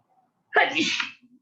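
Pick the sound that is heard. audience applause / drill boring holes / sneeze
sneeze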